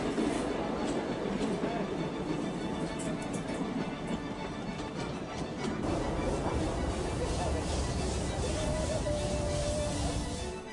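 A 1957 vintage Littorina rail car runs on the restored Eritrean railway. The rolling rumble and rattle are steady and moderately distant, with faint clicks and a brief squeal, and a voice speaks over it.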